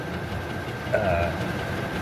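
A Chinese diesel heater running at full blast, venting through a garage door exhaust, gives a steady, loud mechanical roar with a constant whine over it, close by and unbroken.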